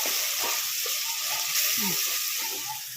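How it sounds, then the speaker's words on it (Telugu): Ginger garlic paste fries in a pan for a village-style fish curry, a strong, even sizzle close by with soft spatula stirring beneath it throughout. "ఇప్పుడైతే అల్లం వెల్లుల్లి పేస్ట్ వేసాం కదా పచ్చివాసం పోయేదాకా ఫ్రై అయితే చేసుకోవాలి"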